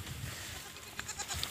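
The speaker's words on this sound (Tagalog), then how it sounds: "Makikita nyo yung dalawang anak ng kambing natin." Two young goat kids bleating in short, faint calls, with a couple of brief higher cries near the end, close by and without talk.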